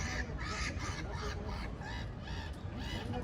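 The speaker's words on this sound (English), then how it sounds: "Is it people or an actual bird? Oh, that's a bird." A bird calling at night outdoors, a loud, near series of repeated squawking, clucking cries in a steady rhythm over background noise.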